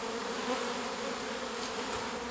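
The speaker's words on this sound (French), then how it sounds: "Là, vous voyez, il y a quand même pas mal d'abeilles." A large swarm of honeybees hums densely and steadily around a hive frame outdoors, a close, continuous buzzing with no voices.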